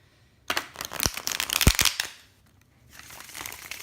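Tarot cards shuffled by hand at close range, a brisk run of papery riffling and flicking lasting about a second and a half, then a pause and a softer, fainter rustle of cards.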